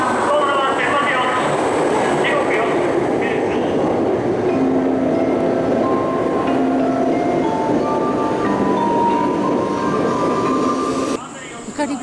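A Tokaido Shinkansen Kodama 723 bullet train runs between Tokyo and Shin-Osaka, heard from inside the Green Car. A loud, steady rumble of wheels and motor carries a faint tonal whine, then drops off sharply near the end.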